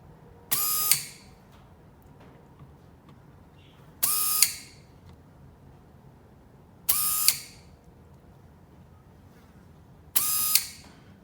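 A Frankentorque gel blaster motor with high torque, run up four times in short bursts, each a sharp high-pitched whir that starts suddenly and winds down, with quiet pauses between.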